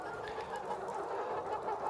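A flock of Lohman Sandy and Atak-S laying hens clucking and murmuring continuously, a dense steady chorus of overlapping calls at close range.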